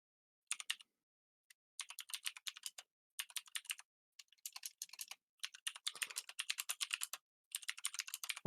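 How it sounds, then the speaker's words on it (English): Computer keyboard typing in bursts of quick clicking keystrokes separated by short silent pauses, close and fairly quiet, with no voices. "I hear typing"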